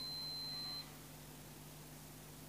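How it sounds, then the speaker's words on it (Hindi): A multimeter gives a thin, steady continuity beep while testing the contacts of an electrical selector switch. The tone is faint, lasts under a second and then stops, leaving a low hum. "ये आपको बीप सुनाई दे रही होगी, मल्टीमीटर पर रीडिंग भी आपको नज़र आ रही होगी"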